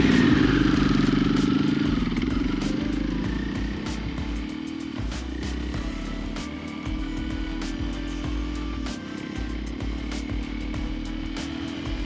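Custom KTM 500 EXC-F dirt bike ridden off-road, engine revving loudly at first then settling into a steady rumbling drone with clattering bumps and wind noise.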